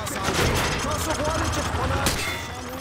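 Gunfire from Call of Duty Modern Warfare 2 rings out in dense rapid bursts as rounds punch through light cover on a shooting range, loud and close over a continuous noisy background.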